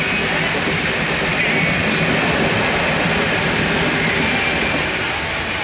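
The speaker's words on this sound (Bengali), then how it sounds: "ট্রেন যাচ্ছে, শতাব্দী গেল না এটা, রাজধানী এক্সপ্রেস" A Rajdhani Express train rushes past at close range, a dense, steady roar of wheels and carriages that stays loud and constant throughout, with no speech.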